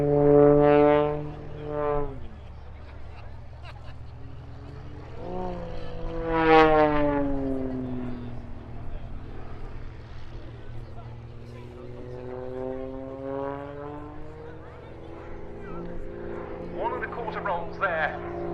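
Extra EA-330SC aerobatic propeller plane at the RAF Cosford airshow, its engine whining and rising and falling in pitch as it rolls and turns, fairly distant, under a commentator's steady narration.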